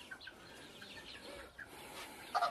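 Polish crested chickens in a small backyard coop give soft, scattered clucks, with one brief louder squawk near the end over low ambient noise.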